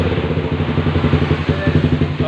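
A Honda CBR motorcycle converted from fuel injection to a carburetor idles close by, a loud, steady, even-pulsing engine putter that runs throughout the clip.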